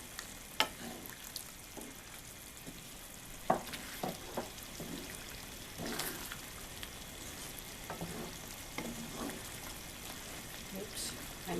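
Mapo tofu sauce being stirred slowly in a pan, with soft scraping strokes and light sizzling spread irregularly across the clip, fairly quiet, with a voice talking at times over it.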